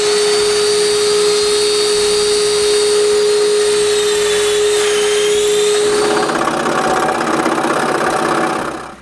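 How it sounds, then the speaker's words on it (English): A domino joiner cuts mortise holes into wooden nightstand legs, a steady loud motor whine with a constant high tone that shifts pitch partway through, then turns rougher and grittier as the cutter engages before winding down. "Now I make 6 domino holes on each leg."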